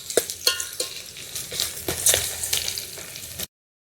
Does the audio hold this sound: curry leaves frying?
yes